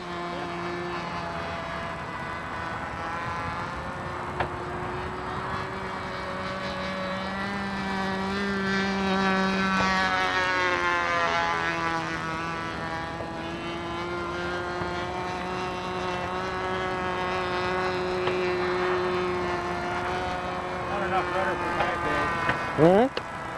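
A Flyboy Models Martin AM-1 Mauler RC plane flies overhead, its engine a steady, droning whine that rises and falls in pitch as it passes, fairly close and continuous for over twenty seconds.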